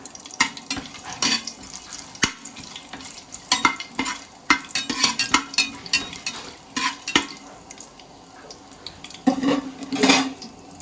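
Bay leaves, black pepper, cumin, cardamom, cinnamon and cloves frying in oil in a pan for kabsa, a hissing sizzle broken by frequent sharp utensil scrapes and clanks against the pan.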